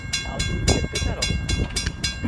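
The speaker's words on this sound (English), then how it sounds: "the 2:45 train is now passing Carpenters Crossing" A train rolls slowly past Carpenters Crossing, its wheels clacking over rail joints in a steady rhythm, close and fairly loud.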